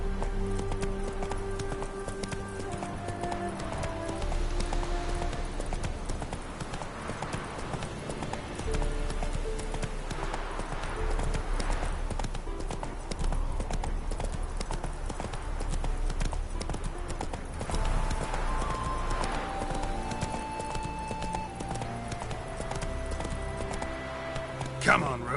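Roach, a horse in The Witcher 3 video game, gallops with a continuous rhythmic clip-clop of hooves under game music and ambience, with a voice speaking over it.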